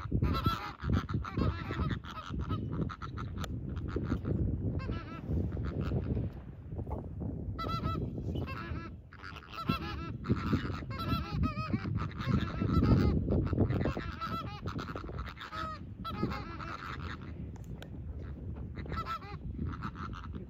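Flamingos calling in a lagoon on a Galápagos island during their mating dance, a dense flock of loud, overlapping honking calls that go on without a break throughout.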